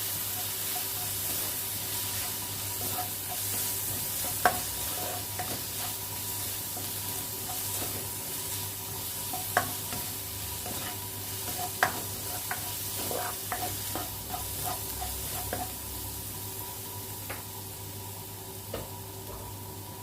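Onions fry for a Kerala-style salmon curry, a constant, moderate sizzle with scattered stirring clicks and taps spread through the long stretch, and no voices.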